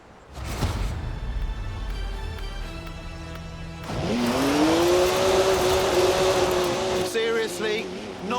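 A BMW 1M revs in Forza Horizon 4, its engine tone climbing into a loud, sustained rising drone after a few seconds, with quieter mechanical and ambient game noise before it.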